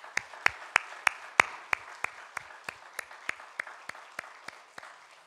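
A congregation at a Christmas church service claps in steady unison, about eighteen evenly spaced claps heard at moderate distance, with no talking over them.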